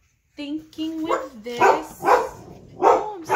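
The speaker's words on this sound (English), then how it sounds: "Sorry about my dogs." Several dogs bark in a quick series of loud, close yaps and barks over a few seconds, and someone speaks briefly between them.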